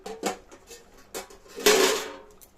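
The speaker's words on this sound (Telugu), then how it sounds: "మూత పెట్టేసుకుందాం" A metal lid set down on a pot of goat leg curry with coconut powder in a home kitchen, giving a few clattering knocks and then a louder scraping clang near the end, close and alone.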